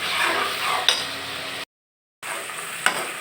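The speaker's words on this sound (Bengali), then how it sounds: "এর সাথে আমি মাংসগুলোকে দিয়ে 1 মিনিট ভেজে নেব।" Beef pieces fry in oil with browned onions and spices for a Bengali red beef bhuna, giving a steady close sizzle with occasional clinks of stirring, broken by a short silent gap.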